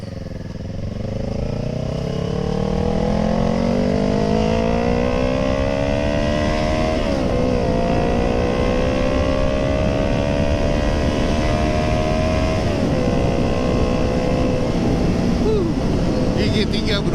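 A Kawasaki ER6n motorcycle engine pulls hard in third gear, its loud, steady drone rising in pitch as it climbs toward 100 km/h, with a brief dip at a shift-like break and wind roar throughout.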